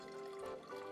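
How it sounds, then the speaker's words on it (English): Beer bottles are poured out in Project Zomboid, a brief, faint trickle of liquid with a steady tonal hum underneath. "Pour out these beer bottles."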